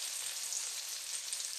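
Eggplant sizzles steadily in a hot pan for tortang talong, a dense, even frying hiss that holds at the same level throughout with no talking.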